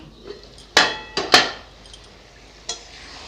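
Metal clanks as a lid is lifted off a cooking pot of fish and cauliflower curry: a few sharp, close knocks in quick succession, then one softer tap, in a quiet kitchen.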